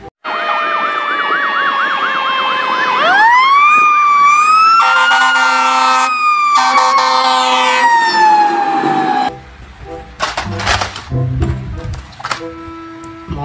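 A fire truck siren wails loudly and close, starting with a rapid yelp then sweeping into long rising and falling tones, before cutting off to short, scattered sounds.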